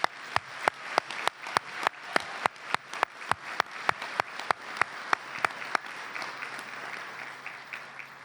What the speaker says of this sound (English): Please help me give a warm round of applause to our inductees.